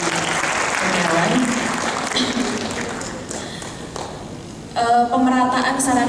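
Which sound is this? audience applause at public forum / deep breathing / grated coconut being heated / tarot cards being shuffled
audience applause at public forum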